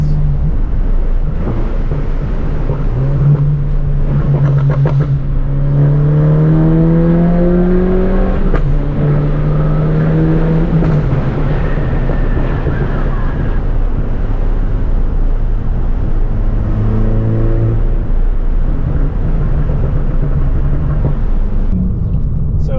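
A tuned 2013 Mk6 accelerates hard through quick upshifts, its engine note climbing and dropping with each shift while the exhaust gives sharp snaps between gears; loud and close, with no talking.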